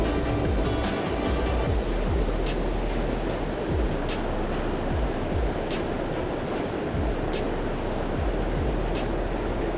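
A rushing Southern Rocky Mountain river below a waterfall pours in a steady, loud, broadband roar with no break or voices over it.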